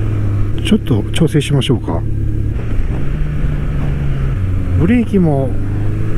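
A Honda CB1100 air-cooled 1100cc four-cylinder motorcycle engine drones steadily at low pitch, shifting in tone a few times, while someone talks over it close by.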